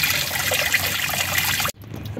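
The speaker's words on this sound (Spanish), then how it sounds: "voy a botarlo de a poquito para que caiga aquí en el tarro que le puse ahí" Tap water tinged brown drains from an overheated Ford Zetec Rocam 1.6 8V engine into a can, a steady close trickling splash that cuts off abruptly near the end, with no talk.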